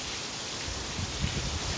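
Steady rain falling during Hurricane Hanna in Texas, a broad continuous hiss of drops with a slightly heavier patter toward the end, close by and without voices.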